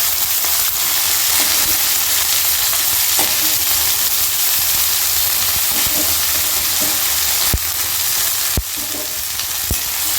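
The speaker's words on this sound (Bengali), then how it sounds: "ফোড়নটা একটু রেডি হয়ে গেলে কিন্তু যে সবজিগুলো আমি কেটে রেখেছি সমস্ত সবজিগুলো এখানে দিয়ে দেবো" Chopped vegetables hit hot oil tempered with dry red chili and panch phoron, giving a loud, steady sizzle and frying hiss close by, broken by a few sharp utensil knocks near the end, with no talking.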